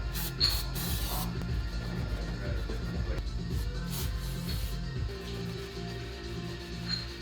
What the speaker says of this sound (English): next is going to get some brake clean